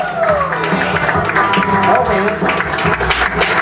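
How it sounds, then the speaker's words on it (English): Comedy club audience applauds and cheers a comedian coming to the stage, dense clapping and crowd noise with a voice calling out over it throughout. "So please give him a big, warm round of applause."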